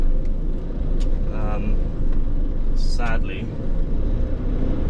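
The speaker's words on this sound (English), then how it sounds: "I'm in the spare lorry" A spare Mercedes lorry's engine drones low and steady from the cab while driving, with a continuous rumble beneath someone talking and brief higher squeaks partway through.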